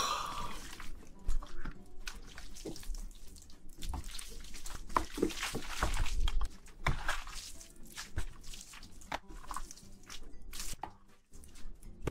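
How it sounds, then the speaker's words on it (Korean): Close-up eating of black bean noodles (jjajangmyeon) in a Korean mukbang, with wet slurps, chewing and soft squishy bites in an irregular rhythm, alone without talk. "짜장면 먹방."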